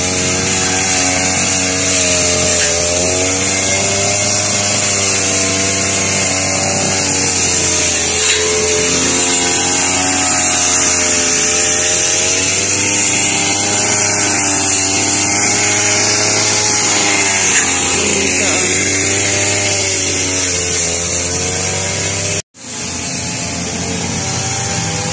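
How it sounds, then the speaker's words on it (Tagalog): A cutting machine drones loudly and continuously at a workplace, its harmonic whine wavering in pitch as the load shifts, then cutting out sharply near the end before starting up again. "Maingay dito ba sa cutter si Kuya."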